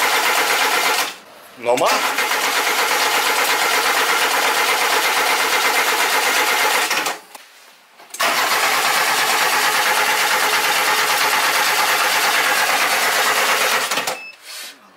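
An old barn-find vehicle's engine cranks in long, loud, continuous churning bursts, broken by two brief pauses, with a voice speaking over it.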